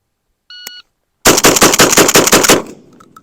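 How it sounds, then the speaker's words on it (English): A Benelli M4 shotgun fires a rapid string of about eight loud, close blasts, preceded by a short electronic beep from a shot timer. "We got to take it off and then fire."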